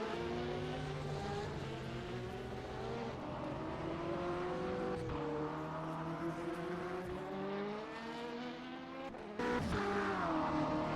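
GTE and Oreca LMP2 race cars in a sim racing game at Istanbul circuit, engines droning continuously with rising and falling revs as several cars pass, a brief shift near the end, no voice over the engines.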